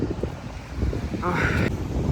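Gusty wind rumbles against the microphone outdoors, with muffled speech-like sounds and a brief rustling or creak partway through.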